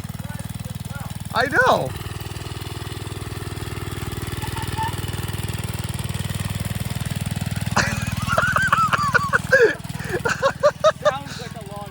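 A small motorized bike engine buzzes steadily in the background, lawnmower-like, while people talk and exclaim over it, with a brief louder revving burst near the end.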